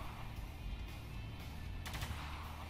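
Sniper gunfire from the Spec Ops The Line video game sounds as a faint, muffled shot or two over dense game background noise, brief and distant.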